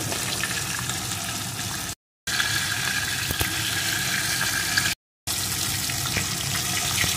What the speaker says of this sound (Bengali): মাথাটাকে প্রথমে লাল লাল করে ভেজে নেব